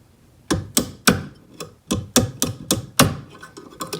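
Sharp metal hammer blows strike an annealed wide band ring on a mandrel, about a dozen close, ringing taps in an uneven rhythm with brief pauses between groups.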